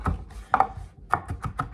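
Kitchen knife chopping celery on a board while cooking chicken and rice: a loose run of sharp, close knocks, a pair near the start and several quicker cuts toward the end, with no talking.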